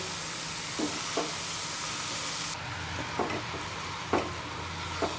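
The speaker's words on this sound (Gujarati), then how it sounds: "હવે આપણે બધું સારી રીતે મિક્સ કરી લઈએ." A spoon stirs and mixes spicy pizza masala with salt and sugar in a pan on the stove, with a low sizzle running throughout and soft scrapes coming now and then.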